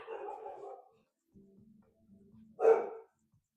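A dog lets out a low murmur of vocalizing, then one sharp close bark after a pause, in an otherwise quiet room.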